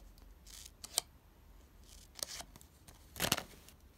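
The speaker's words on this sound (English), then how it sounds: "Just make a cut, one or two cuts at the corner, at the four corner, to fit this case." Scissors snip a paper clipping to fit a clear iPhone case, making three separate crisp cuts, each a quick pair of close, quiet snips in an otherwise hushed room.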